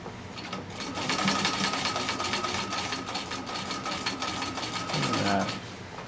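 A Singer Model 15-91 sewing machine runs steadily over a thick patchwork seam on a flat cap, a close, continuous motorized hum and rapid needle rattle with a brief voice near the end.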